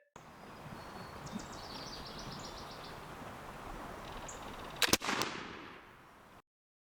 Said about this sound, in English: So let's take our second shot at our target.